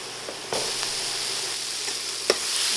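Tomatoes and onion sauté in a pan with a steady, close sizzle, broken by a few soft stirring scrapes and one sharper clink near the end.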